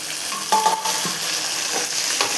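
Tomatoes hitting a hot frying pan for bitter gourd kuzhambu, a continuous close sizzle with soft stirring scrapes and a couple of light utensil taps.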